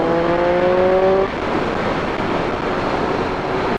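Triumph Street Triple motorcycle engine running loud and close, a rising whine of harmonics for the first second before settling into a steady broadband roar that continues to the end.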